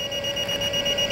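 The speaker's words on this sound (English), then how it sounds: "hear one beep when it turns on" A Lincoln Viking 3250D FGS PAPR unit giving a single steady electronic beep as it powers on, a clear sustained tone lasting about a second, close and alone.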